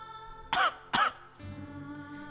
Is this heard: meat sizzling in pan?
no